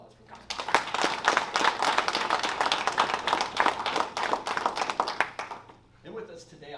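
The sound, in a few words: round of applause for senior players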